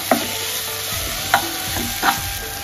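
Chopped tomatoes, cut into long strips, frying in a pan for mushroom dum biryani, with a steady sizzle and three distinct spatula scrapes as they are stirred.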